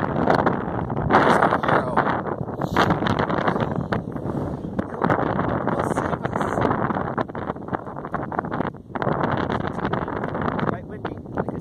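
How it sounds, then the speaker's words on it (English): Heavy wind buffets the microphone throughout, a constant roaring rumble with gusts, while a person talks over it. "Quite windy, like I said."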